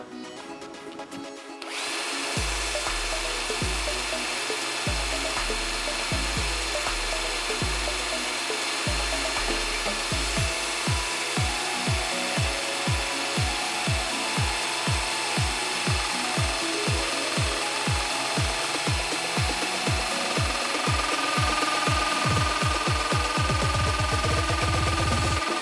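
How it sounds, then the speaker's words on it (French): A cordless drill-driver set to drill mode at speed 2 whirs steadily and loudly, boring into wood with rhythmic chattering pulses throughout. "Alors je mets sur position perceuse, pardon. Tac. Vitesse 2."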